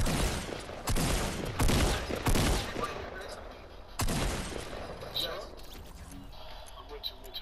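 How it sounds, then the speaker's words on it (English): Bursts of video game gunfire near a brick house, several sharp shots in quick clusters early on and another volley midway, with players talking over them. "I hear gunshots at the brick house"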